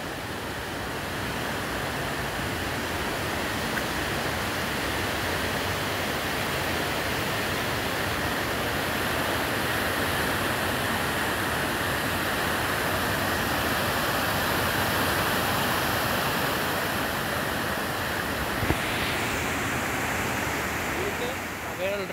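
River water floods into a rural pasture and a small beach area, giving a steady, loud rushing roar that fills the scene continuously, with a brief knock near the end.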